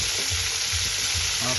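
Food fries in a pan for a home Eid cooking session, a steady loud sizzle running throughout with a few rhythmic low scrapes from stirring.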